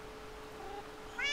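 A cat meows once near the end, a short rising call over quiet room tone.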